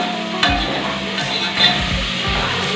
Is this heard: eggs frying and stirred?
yes